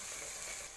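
Small cinnamon bark pieces sautéing in hot oil for a chicken curry, a steady close sizzle that holds even through the short stretch.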